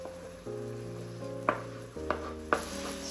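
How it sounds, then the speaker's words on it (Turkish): Onion and garlic sautéing with meat in a pan for Turkish forest kebab, a steady sizzle and stir with several sharp utensil clinks against the pan, close and without talk. "Soğan ve sarımsaklarımızı etimizle birlikte kavuruyoruz."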